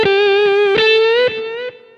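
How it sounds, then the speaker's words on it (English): Electric guitar with a distorted, effected tone sustaining one note, struck again a few times, with a slow bend of about two tones; loud and close, fading at the end, no voices. "You can kind of bend up 2 tones"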